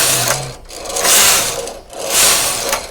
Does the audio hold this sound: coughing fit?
no